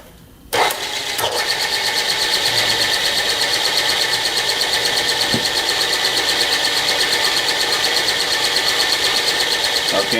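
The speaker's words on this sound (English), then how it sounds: "I'm going to bring this down to the lowest speed the Bridgeport goes with a belt drive pulley system, which is 80" A Bridgeport milling machine switches on and spins at its lowest belt-drive speed of 80 RPM. A sudden thump is followed by a loud, steady whirring hum that holds evenly for the rest of the clip.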